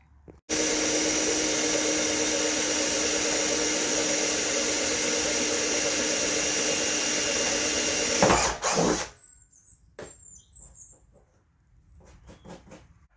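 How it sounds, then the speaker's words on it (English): A power drill runs continuously at high speed for about eight seconds drilling holes at a cabin, then winds down, leaving quiet clicks and faint movement afterward. "So we'll start drilling some holes for that."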